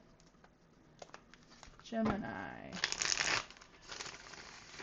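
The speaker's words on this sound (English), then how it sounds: "Give the cards another quick shuffle here." Tarot cards are shuffled by hand during a love reading, a brief papery riffling and rustling burst that follows quiet speech and fades into softer handling.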